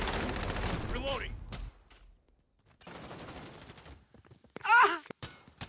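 Bursts of rapid automatic gunfire from a Call of Duty match rattle out in two stretches, separated by a quiet gap, with a voice speaking over the shooting.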